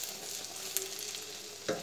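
An egg omelette with cheese fries on low heat in a pan, giving a steady soft sizzle, with a light tap or scrape near the start and another near the end.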